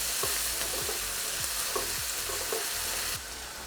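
Green chili pieces fry in a pan for an okra and mushroom stir fry. A constant sizzling hiss runs throughout, with a few spatula scrapes. The sound drops slightly near the end.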